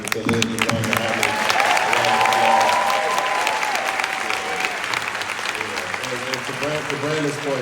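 Audience applause for the moderator, Khalid John Muhammad, at a New Jersey social justice forum, a steady crowd clapping that carries on throughout with a voice speaking over it.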